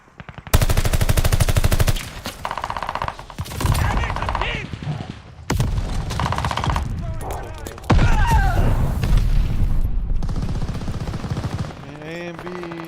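Dense automatic weapon fire from Call of Duty: Modern Warfare 2 comes in loud, sustained bursts with brief gaps and booming impacts, mixed with game effects and voices talking over it.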